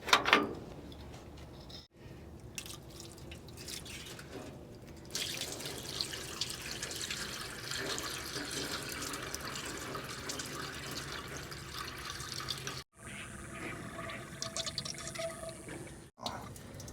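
Water from a hose runs into the cooling system of a 1962 Chevrolet Bel Air wagon, a continuous splashing, gurgling fill with brief pauses, close and moderately loud.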